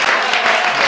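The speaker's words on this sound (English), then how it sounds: "How about we give the Lord one good clap offering and a shout?" A church congregation claps as a praise offering, a dense steady burst of many hands at close range, loud and continuous for a moment.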